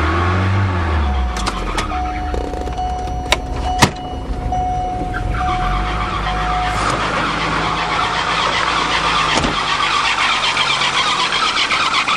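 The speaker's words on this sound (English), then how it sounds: "My rad hose is hitting the fan." Volvo turbo engine running with a loose radiator hose striking the fan, a steady mechanical hum carrying a sustained whine and a few sharp knocks, loud and close.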